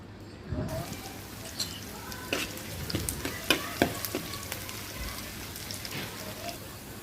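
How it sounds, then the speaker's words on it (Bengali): Garlic and onion dropped into hot oil to temper dal, a quiet crackling sizzle with sharp spitting pops and a few utensil knocks, fairly faint and steady after a short quiet start. "এখন রসুন আর পেঁয়াজ দিয়ে বাগার দিয়ে দিব"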